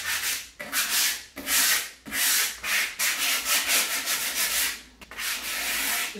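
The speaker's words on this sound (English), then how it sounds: "this is just hand sanding it" Hand sanding of a painted wooden furniture piece, a steady rough scratching rub in repeated back-and-forth strokes with short pauses between, close and fairly loud, with no talking.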